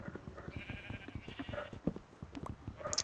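Sheep in the video game Minecraft give repeated short bleats in an irregular rhythm, set over soft clicking game sounds with no talk.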